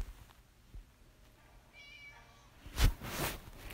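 A cat in the Scary Teacher video game gives a thin, faint meow, then a louder, sharper cry over a quiet background.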